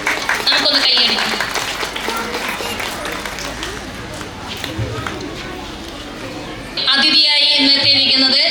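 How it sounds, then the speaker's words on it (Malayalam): Audience applause at a school stage event, a burst of clapping rising sharply near the end over a noisy crowd backdrop, with speech and general hall noise throughout. "നമുക്കൊന്ന് കൈയടിക്കാം."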